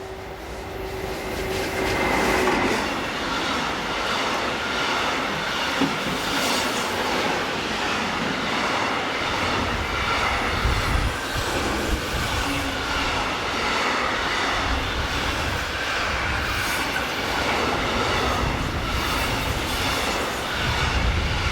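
Locomotive 152009 passes close by heading north on the Rhine Gorge line in Germany. A loud, sustained rumble of rolling wheels carries faint clickety-clack and brief squeal through the whole stretch.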